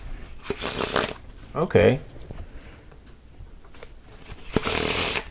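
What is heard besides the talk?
shuffling playing cards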